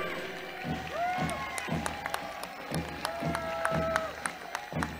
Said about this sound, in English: Your clapping only will motivate them.